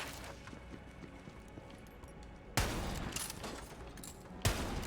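Gunfire in Borderlands 3 arrives as two sharp, loud bursts of shots, the second brief, set against a low, steady game ambience.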